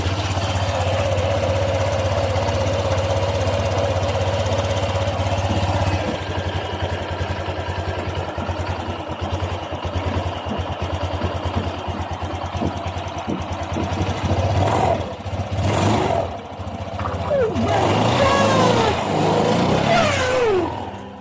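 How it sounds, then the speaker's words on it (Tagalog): A Honda Click 125 fi motor scooter engine, fitted with a new connecting rod, runs steadily up close, its rough idle shifting partway through, with a few revs near the end. "ang tunog ng kanyang makina pagkatapos natin mapalitan ng bagong connecting rod"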